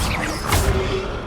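A fire spell being cast in Hogwarts Legacy, heard as a short whooshing burst of flame with a crackling flare in the middle, loud and close, lasting just over a second.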